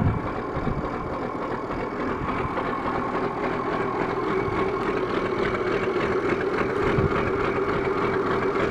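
An Oliver 1855 tractor engine runs steadily after a cold start, a loud, close, continuous diesel idle with a rough low rumble and no talking.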